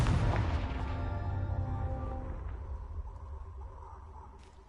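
A Confringo blasting spell goes off in Hogwarts Legacy with a sharp, booming burst right at the start, then a rumbling tail that slowly fades away.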